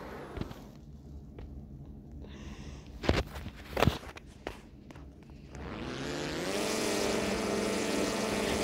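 A Red Bull Extra EA400 aerobatic propeller plane in a video game spools up to a loud, steady propeller drone after several sharp clicks and thumps, the engine rising and holding near and continuous.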